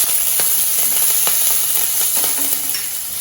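Dal with green chilli and ginger roasting in a pan over low heat, giving a close, steady hiss and sizzle broken by soft rhythmic scrapes of stirring.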